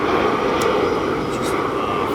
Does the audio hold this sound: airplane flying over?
yes